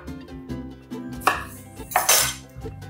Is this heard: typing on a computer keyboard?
no